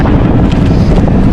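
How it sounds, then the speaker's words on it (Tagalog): A strong northeast monsoon wind buffets the microphone at sea beside a small boat taking on water, a loud, constant low roar with no pauses. "Ang lakas ng hangin,"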